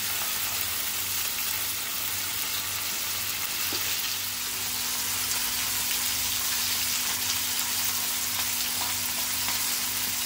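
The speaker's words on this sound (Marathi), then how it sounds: "बोंबील फ्राय करताना तवा छान गरम करून घ्यायचा आणि फुल गॅसवरती फ्राय करायचं" Steady loud sizzling of rava-coated Bombay duck fish frying in hot oil on a very hot griddle over full flame, a continuous crackling hiss throughout with no talking.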